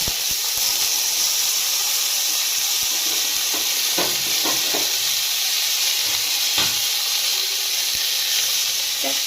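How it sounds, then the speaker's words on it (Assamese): Pieces of ripe jackfruit seed frying together in a little oil in a hot wok, making a constant bright hiss and sizzle with scattered soft scraping taps throughout. "তেল দি মই এইখিনি বস্তু ভাজি ল'ম।"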